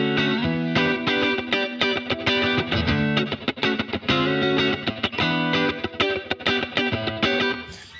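Electric guitar run through a Two Notes OPUS amp modeler, playing sustained distorted chords and riffs with effects, loud and continuous throughout with no talking.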